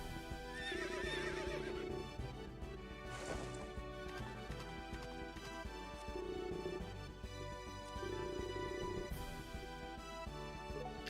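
Horse whinnies from the Berwick Saga video game, several short neighs sounding over continuous game music with clip-clop touches, loud and close throughout.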